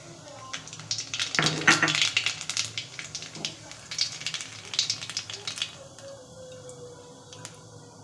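Nigella seeds hit hot oil in a kadai, giving a burst of crackling sizzle with sharp pops and ticks that thins out into a quieter, intermittent spatter.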